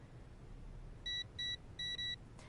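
Four short, clean electronic beeps in two pairs from a safe's combination keypad in WWE 2K20, ringing out clearly over a faint low room hum.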